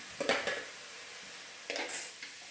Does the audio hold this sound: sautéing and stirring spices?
yes